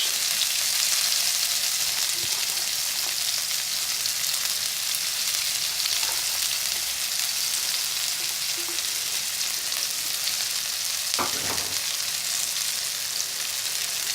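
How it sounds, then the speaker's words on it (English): Onions frying in hot oil with mustard seeds for okra bhaji, a constant close sizzle with scattered small pops and splutters, no talking. "Some of the seeds, the mustard seeds, are starting to splutter."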